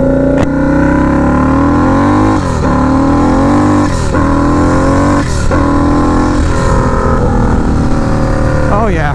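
Turbocharged Harley-Davidson V-Rod motorcycle accelerating hard, its engine loud and close with repeated rising revs and gear changes across the run, steady roar throughout.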